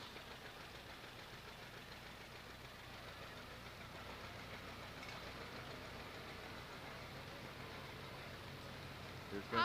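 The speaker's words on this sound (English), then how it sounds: "Here comes the Farmall just going by." A Farmall tractor rolls past in a small-town popcorn parade, its steady engine rumble blending into a constant wash of outdoor crowd noise, with people talking nearby throughout.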